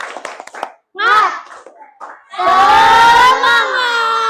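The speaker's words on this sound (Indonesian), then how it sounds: "Tepuk semangat." Pupils in a classroom do the "tepuk semangat" chant: a quick series of hand claps opens, then children's voices shout and chant loudly together in a sustained cheer, with claps mixed in.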